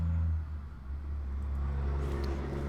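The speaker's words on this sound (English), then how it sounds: "so traffic might be a little bit louder than normal" Road traffic drifting in through a window left slightly open, a continuous low rumble of passing cars with a gentle rise and fall and a brief higher whir near the end, fairly close and steady.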